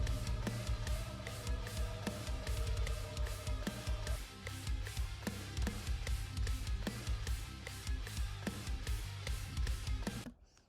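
A drum sample loops in FL Studio with steady, evenly spaced hits in time with the tempo over a dense backing, quiet overall and stopping abruptly at the end.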